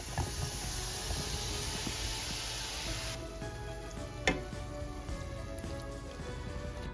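Tofu with onions and mushrooms sizzles steadily in a hot pan, a dense crackling hiss that eases partway through, with a single sharp utensil clink near the middle.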